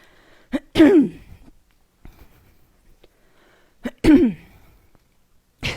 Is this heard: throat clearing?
yes